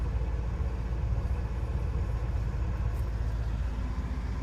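A Winnebago F-17 engine fast idling, a steady low rumbling drone with a faint rhythmic pulse, close and constant throughout with no voices.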